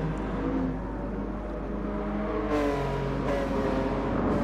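Race cars in GT Sport, running on soft tyres, hold a high engine whine that rises and shifts pitch as they accelerate. The sound is fairly faint and steady, with no voices.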